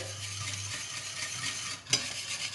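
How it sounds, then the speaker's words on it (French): A whisk stirring semolina as it cooks in milk on lowered heat, a soft continuous swishing with one brief clink of the whisk against the pot near the end. "Il faut continuer à mélanger et on laisse cuire jusqu'à ce qu'on sente au fouet de la résistance."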